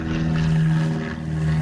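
A propeller airplane drones steadily overhead above farmland, a loud continuous engine hum with no speech.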